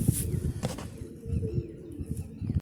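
Pigeons cooing up close in low, soft, repeated throaty calls, a continuous murmuring flock sound with a few brief higher chirps.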